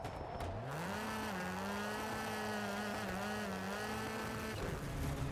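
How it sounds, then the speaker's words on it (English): Rallycross cars race in a video game running on a mini gaming PC, a single engine rising in pitch and holding a sustained moderate drone with slight wavering, no talk. "this is still one of my favorite racing games, really just for the rallycross here"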